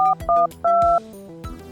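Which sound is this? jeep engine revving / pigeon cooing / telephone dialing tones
telephone dialing tones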